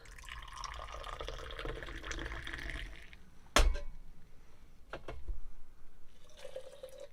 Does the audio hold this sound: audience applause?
no